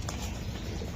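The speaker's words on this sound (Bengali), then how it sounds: "দোনোটা ইয়াং কবুতর দেখছেন।" Young racing pigeons of a Bangladeshi racing club cooing softly in a loft, a steady low murmur of overlapping coos with no talk.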